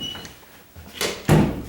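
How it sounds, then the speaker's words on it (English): A door with a latch that fails to catch in its strike plate gives a few close knocks and rattles as the door is pushed and moved, ending in a louder thud, with no voices. "this door latch isn't going in to the strike plate"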